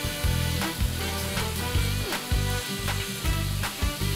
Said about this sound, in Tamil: ஊற வச்சுருக்க மீன் துண்டை வந்து அதில் போடணும்